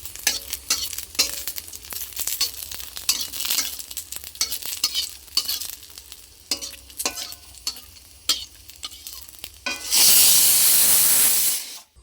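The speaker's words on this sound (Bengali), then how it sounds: "চলো লঙ্কাটা প্রথমে ভেজে নিই" Green chillies fry in oil in a pan with close, steady sizzling and repeated scraping stirs, then a loud rushing hiss bursts in near the end and cuts off.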